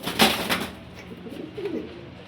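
A golden pigeon coos softly at close range, a few low rolling notes after a brief rustle, fairly quiet against a still background.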